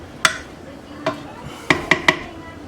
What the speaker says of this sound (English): Give that a good quick stir